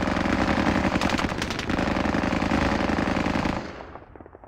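Sustained suppressing machine gun fire in the war game Squad Battles, a loud, fast continuous burst of rapid shots that runs for several seconds before cutting off and fading into a short echo.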